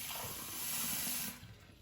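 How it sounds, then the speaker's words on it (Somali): Cold water poured from a tap into a container, a steady splashing hiss that cuts off abruptly near the end, leaving a faint residual trickle. "hadda waxaa sameynayaa marka biyo qaboow ayaa soo shubanaya"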